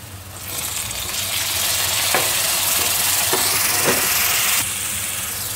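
Chopped tomatoes going into browned onions in a hot pan for kothu parotta, a surging steamy sizzle with a few spoon scrapes, loud and close, then easing slightly at the end.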